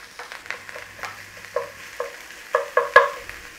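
Garlic and ginger frying in a little oil in a pan, a soft sizzle with a series of scraping stirs and light utensil knocks against the pan, close and fairly quiet.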